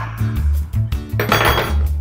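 Mixing in a crock in a kitchen: repeated clinking and scraping of a utensil against the ceramic pot, coming in uneven, close, fairly loud strokes.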